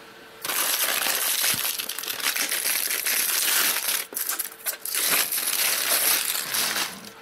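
Foam packaging rustles, squeaks and crunches loudly up close as computer parts for a cryptocurrency mining rig are unboxed, sustained handling broken by a brief pause midway.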